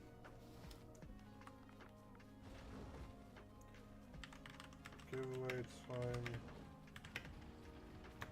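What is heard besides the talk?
typing on a computer keyboard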